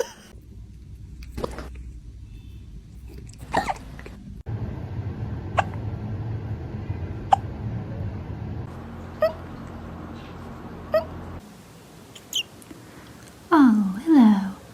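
Soft, sharp hiccups from a cat, a handful of brief isolated clicks spaced a few seconds apart over quiet room tone, followed near the end by a couple of faint higher squeaky sounds.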